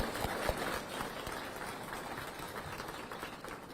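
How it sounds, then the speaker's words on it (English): A room full of people at a police academy graduation applauds, steady clapping that holds for several seconds and slowly fades, heard from some distance. "Can we just give another round of applause?"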